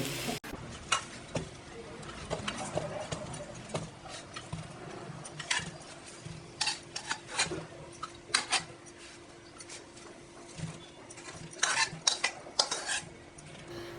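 Muthke, crispy village-style fried dumplings, tossed and stirred in a hot pan, with steady spoon clinks and scrapes against the metal over a soft background sizzle, close and moderately loud.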